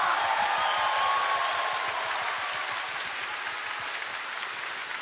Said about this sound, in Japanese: それでは皆様大きな拍手をお送りください。